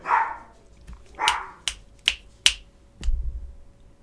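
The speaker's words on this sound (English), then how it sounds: "I don't know what they're barking at." Two dogs, one of them small, bark indoors in a series of short, sharp yelps and woofs spaced out over a few seconds, loud and close.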